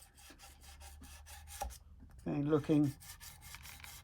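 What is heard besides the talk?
straight crowning file working along a guitar fret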